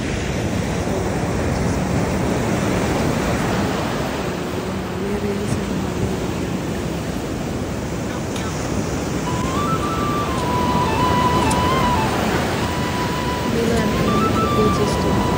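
Ocean surf washing onto a beach in the early morning, a steady broad wash of breaking waves with wind noise across the microphone, continuous and fairly loud, with faint background voices and tones in places.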